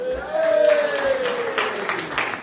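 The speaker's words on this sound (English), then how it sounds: "Can I please get a big round of applause for our next act, please?" Applause from a comedy-night audience at a social club as the next comedian is called up, a dense burst of clapping that swells and then thins out over a couple of seconds.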